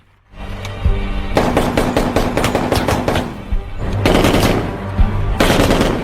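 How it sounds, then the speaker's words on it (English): Loud, sustained bursts of rapid gunfire during shooting practice in the action film Rambo, dense automatic fire broken by brief gaps, close and harsh with no voices over it. "While practicing his shooting skills, Rap also cannot control his emotions and shoots at someone else's shooting board"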